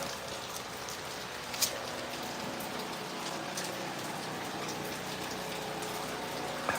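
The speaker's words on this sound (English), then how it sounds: "Rain's picking up." Steady, fairly heavy rain falls outdoors in Santa Cruz, Jamaica, a dense continuous hiss of drops on surfaces with a few sharper patters and no talking.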